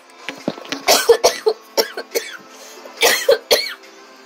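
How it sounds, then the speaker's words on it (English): Someone coughs repeatedly in short harsh bursts, close and loud, with a brief pause between two clusters. "Pardon my coughing."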